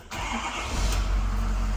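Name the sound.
Ford 6.7 diesel truck engine starting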